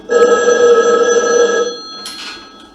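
A telephone bell rings loudly and steadily for well over a second, then stops, followed by a brief rustling handling noise, all without speech.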